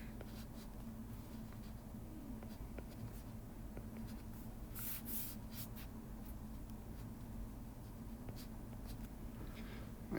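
Hand-drawing a chemistry reaction intermediate, likely pen or marker on a writing surface, with steady continuous scratching strokes at close range and no voices.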